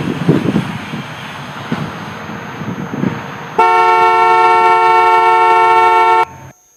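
A car's proximity warning sounds as a steady electronic horn-like tone, alerting that the vehicle is passing too close to a bicycle; it blares loud and continuous for about three seconds after a stretch of muffled road noise, then cuts off.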